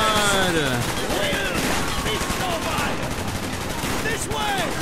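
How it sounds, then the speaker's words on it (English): Dense, sustained gunfire in the video game Call of Duty Black Ops, with rapid automatic bursts and overlapping shots continuing throughout, while voices talk over the shooting. "I've been trying to shoot you this whole time"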